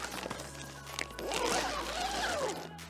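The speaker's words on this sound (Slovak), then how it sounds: "Obojstranný zips, ktorým vieme foliovník zazipsovať zvonku," Double-sided zipper on the door of a plastic-film polytunnel, drawn in one long continuous pull with a rising and falling rasp, close and moderately loud, with faint handling noise before it.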